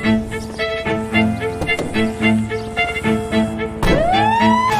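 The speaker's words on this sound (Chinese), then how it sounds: "赛罗开着消防车马不停蹄地赶往事故现场" A cartoon fire truck's siren wails loudly and continuously in rising and falling tones, close and alone, with a sweeping upward whoop near the end.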